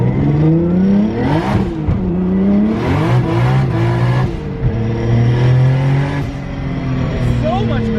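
A Nissan Skyline R33 with an RB26 engine revs hard through a pull, a loud, close engine note climbing and dropping repeatedly across several gear changes.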